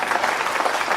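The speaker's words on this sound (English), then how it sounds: "The crowd acknowledging that was the key ball." A snooker audience applauds a key ball in a live match, a brief burst of dense, even clapping from a seated crowd heard alone.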